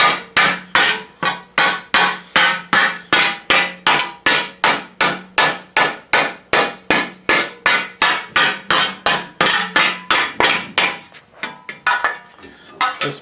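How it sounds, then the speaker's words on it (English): Repeated hammer blows on sheet metal as D'Aubernon-style armor greaves are shaped, about thirty sharp, evenly spaced metallic strikes in steady rhythm, close and loud, ending in a brief quieter tail. "At this point, I'm ready to start moving the metal a little bit around here."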